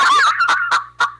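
A chicken clucking up close, a rapid run of loud, sharp squawking clucks followed by a few separated bursts, with a low steady hum underneath.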